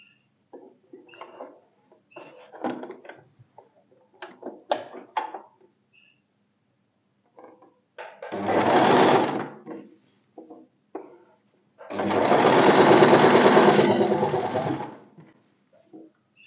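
A sewing machine stitches a seam on a short strip kurti in two sustained runs, the second longer. Soft handling clicks and fabric rustles come before and between them.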